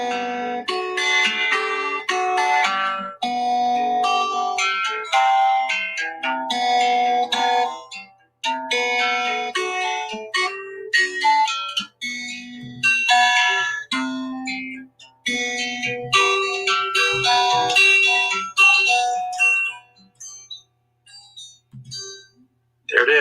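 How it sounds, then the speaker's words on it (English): Finger-picked guitar sets a gentle mood, with plucked notes and chords ringing in an even, fairly loud flow and brief pauses near the end. "this is a little mood of some finger-picking guitar"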